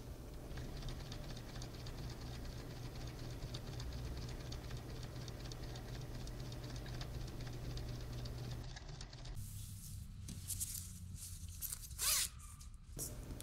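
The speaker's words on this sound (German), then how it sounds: "den Reißverschluss wieder schließen und dann wie gehabt auf den Zähnen bis zum Ende nähen" Sewing machine stitching along the teeth of a zipper while sewing a child's bag, a fast steady mechanical whirring and ticking that runs continuously for most of the stretch before stopping, followed by faint handling noise.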